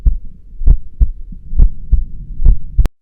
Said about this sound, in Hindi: मीरा का दिल जोर जोर से धड़कने लगा